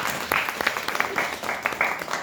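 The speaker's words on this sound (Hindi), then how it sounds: "एक बार जोरदार तालियां इनके लिए" Applause for two zone trainers at a JCI India gathering, many hands clapping in an uneven, rippling burst with distinct individual claps, moderately loud throughout.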